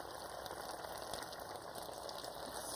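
Beans heating in oil in a pan give off a steady, even sizzle and crackle that holds at a constant level throughout, with no talking.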